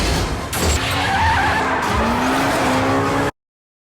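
A car skids and spins out after being shoved into a pole, with loud, sustained tire squeal that rises and wavers over engine roar for about three seconds before cutting off abruptly.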